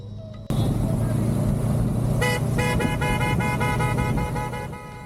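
Air horns sound on motorbikes on an Indian highway. A loud, sustained multi-tone blare starts after an abrupt jump in road and engine roar, then fades slightly near the end.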